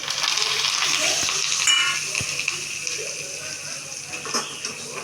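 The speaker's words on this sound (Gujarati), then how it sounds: "થોડુંક તેલ લઈ એનો વઘાર કરવાનો તતરી જાય પછી થોડો હિંગ અને લીમડાના પાન" Asafoetida and curry leaves tempering in hot oil in a home kitchen give a steady, close sizzle with a brief louder crackle midway, and no one speaks.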